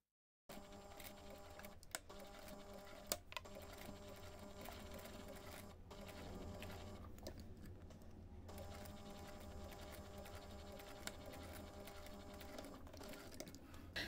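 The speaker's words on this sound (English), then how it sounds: "take this to the machine and sew that seam" A sewing machine stitches a seam on a fabric heart-shaped coaster, running in a continuous fast whirr with a few sharp clicks, close and fairly quiet.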